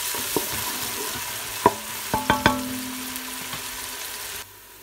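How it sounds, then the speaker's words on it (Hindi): Steady sizzling of onions frying in hot oil, with a few sharp clanks of a utensil stirring in the pan, then it abruptly quiets. "यहाँ पे मैंने ऑयल गर्म किया इसमें प्याज डाल दिया सबसे पहले हम प्याज को गोल्डन कर लेते हैं"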